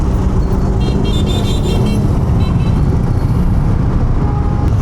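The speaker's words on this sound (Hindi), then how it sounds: "ट्रैफिक बहुत जाम है आज।" Dense road traffic on a busy market street in Lahore, heard from a motorbike: a loud constant roar of engines and road noise with scattered car horn toots.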